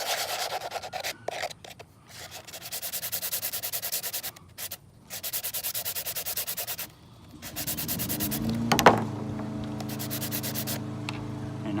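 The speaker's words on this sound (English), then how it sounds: "sand it down." Hand sanding of the cut edges on a DIY quick-connect sprinkler part, a steady rasping rub in repeated strokes with brief pauses, followed by a lawn mower droning in the background.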